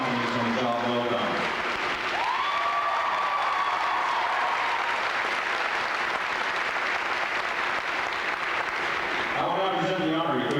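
Sustained crowd applause fills a large hall at a Navy recruit graduation ceremony at Great Lakes, steady and dense throughout, with a brief announcer voice at the start and end.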